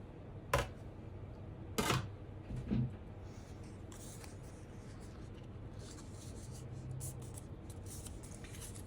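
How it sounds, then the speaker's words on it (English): Scrap paper scored in the middle being trimmed to size for a card hinge, a few short crisp cutting snips near the start against a quiet room hum. "cut it to the size that I need it as the hinge on this side"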